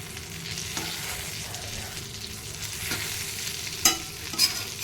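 Stuffed green chillies fry in a pan, giving a steady low sizzle with occasional scraping as they are turned, followed near the end by two sharp metallic clinks, no one speaking.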